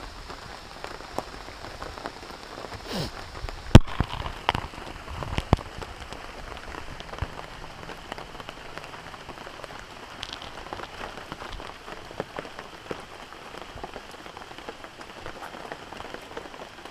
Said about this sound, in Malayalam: പിന്നെയും മഴ തുടങ്ങിയിട്ടുണ്ട് ഗായ്സ്.